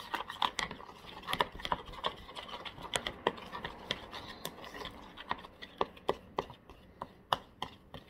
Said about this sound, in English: I'm going to mix all this together to make a paste